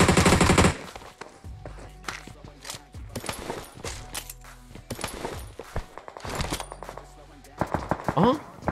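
Bursts of automatic gunfire from PUBG Mobile, a loud rapid volley at the start followed by scattered shots and quieter rattling, with talk mixed in.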